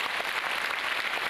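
An audience applauds after a drum performance in a brief, dense burst of many hands clapping at once, steady and fairly loud, heard alone without voices.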